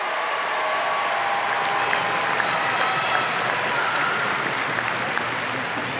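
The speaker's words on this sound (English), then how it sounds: "Let's give those people a round of applause" A crowd at a Mililani High School graduation ceremony applauds the valedictorians, a steady, dense wash of clapping from a large audience, fairly distant and even throughout, with faint voices mixed in.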